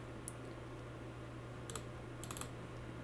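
Fingers type on a computer keyboard in a few quiet, brief bursts of clicking keys against a faint steady hum, with no talk.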